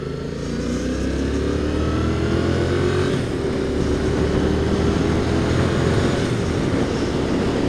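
A 2015 Yamaha FZ07 motorcycle being ridden on new tires, its engine droning loudly and steadily with rising and shifting pitch plus broadband wind rush throughout.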